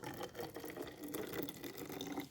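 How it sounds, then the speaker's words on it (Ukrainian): Warm water pours steadily into a sprayer, a continuous splashing rush lasting the whole moment with no voices. "Наливаю тепленької водички"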